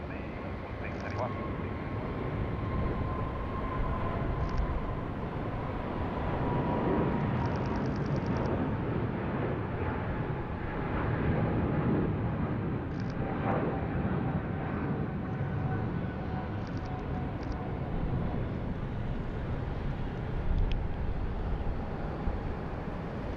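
An airliner approaching to land on runway 34 left at Sydney Airport, a steady jet engine roar with a whining tone held throughout, heard from a distance under radio chatter and someone talking.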